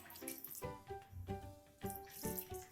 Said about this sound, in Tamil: கொஞ்சமா தண்ணி ஊத்திக்கலாம்.